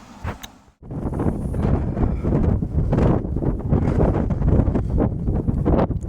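Heavy wind buffets the microphone on a hilltop walk near Bakewell, in loud, gusty bursts of low rumbling noise, following a brief quieter moment at the start.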